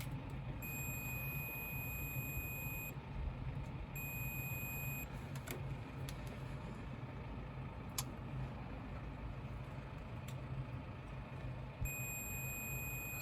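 A multimeter continuity tester on a Ford Capri's starter motor circuit emits a steady high-pitched electronic tone that sounds in two stretches and then returns at the end, over constant low background hum.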